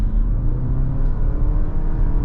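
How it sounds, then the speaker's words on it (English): A 2023 Lexus NX350H hybrid SUV pulls away at full throttle, a loud, steady low engine rumble and whir heard from inside the cabin, with no voices over it. "I floor it"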